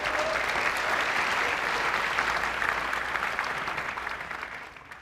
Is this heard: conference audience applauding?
yes